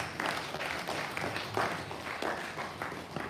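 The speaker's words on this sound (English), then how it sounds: "Shall we please give ourselves a round of applause?" Audience members at a university advisors workshop opening clap together in a steady, moderately loud round of applause that fills the room without a break.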